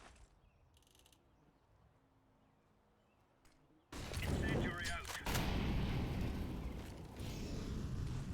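Gunfire in the Counter-Strike video game, a quiet stretch of faint game ambience that suddenly gives way to loud, sustained bursts of shooting and impacts filling the rest of the moment.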